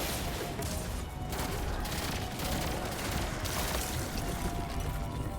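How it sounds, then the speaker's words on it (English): Crystals shattering and setting off chains of explosions in the video game Destiny 2, a dense continuous barrage of blasts and rapid gunfire-like bursts with no pause, loud and crowded throughout. "each time it breaks, no matter if it's from me or you, it causes major explosions"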